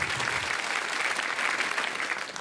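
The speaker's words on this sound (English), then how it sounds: "Clap for this man." Audience at a stand-up comedy show applauds a volunteer brought up on stage, a brief burst of dense clapping at moderate volume, heard alone.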